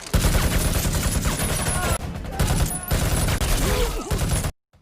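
Soldiers fire on everything in sight during a raid on an illegal weapons camp in the 2019 action film Triple Threat: dense, loud, continuous gunfire with overlapping bursts for about four and a half seconds before cutting off abruptly.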